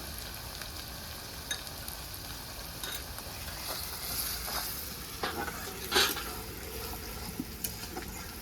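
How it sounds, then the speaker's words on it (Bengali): Oil sizzles steadily in a pan while a utensil stirs and scrapes, with a few clanks along the way; fairly quiet and close. "এগুলো বেশ লাল লাল করে হয়ে গেছে ভাজা"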